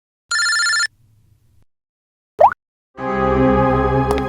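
A telephone rings in a tense police crime-drama scene: one short electronic ring burst, a brief rising chirp, then a fuller, louder ringing tone that carries to the end, with no talking.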